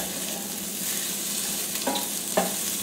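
Onions frying in a small pan for a pizza topping give a steady close sizzle, with a couple of brief scraping stirs near the end.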